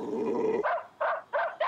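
Cartoon dog growling low and steadily, then breaking into three short, sharp barks in quick succession, close and loud with no talking.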